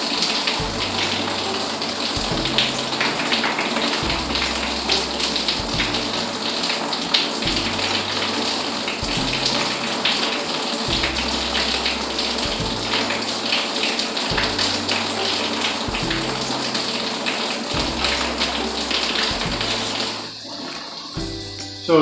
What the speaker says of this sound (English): So it's just excess water that's drained from the top right here.